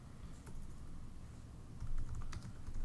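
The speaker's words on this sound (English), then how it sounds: "as I type things in" Fast, close clicking of keys being typed on a computer keyboard, with irregular bursts of keystrokes over low room noise.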